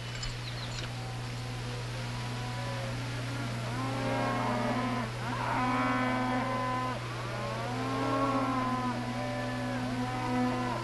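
A herd of cattle moos repeatedly, with long overlapping lowing calls from several animals at moderate distance, over a constant low hum and no speech.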